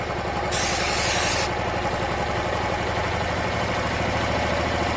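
A Honda Varadero 125 motorcycle engine idles steadily and loudly up close with a regular low throb, and a brief hiss of air rises early on.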